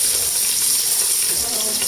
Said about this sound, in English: Raw crabs are sauteing.